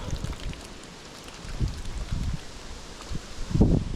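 Strong wind gusts roughly against the microphone in a forest while float fishing, with low rumbling buffets and a faint rustle that swell and fade over a few seconds.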